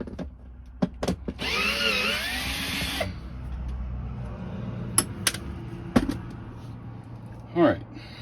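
A hammer drill runs in a short burst of about a second and a half on a cabover truck restoration job, loud and close, amid sharp clanks and workshop knocks.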